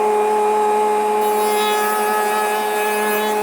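An Axcaliber stile and rail cutter runs through wood against a sledge fence, a loud sustained tonal whine with strong steady harmonics and a brighter cutting hiss joining partway through, close and uninterrupted.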